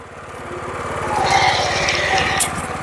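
A power tiller engine runs in first gear, a steady close-up chugging drone with a rapid, even firing pulse that grows slightly louder after the first second.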